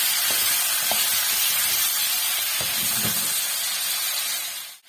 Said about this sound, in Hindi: सारी चिकन को आप अच्छी तरह से फ्राई कर लें।